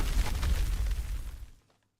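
A deep explosion from battleship testing in the Arknights video game: a single heavy boom with a rumbling, crackling body that fades out over about a second and a half, then silence.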